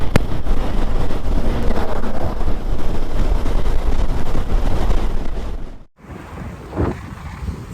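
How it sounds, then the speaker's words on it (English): Strong gusty wind buffets the microphone by the Caribbean sea on the coast near Minca, Colombia, a constant rushing roar that cuts out abruptly near the end, leaving a quieter breeze. "It's a little bit windy here."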